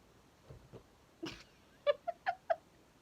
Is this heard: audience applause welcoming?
no